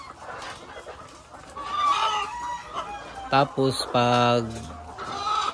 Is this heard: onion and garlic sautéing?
no